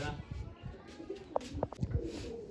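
Pigeons cooing during a pigeon-flying session, soft low coos rising a few times over steady outdoor background noise.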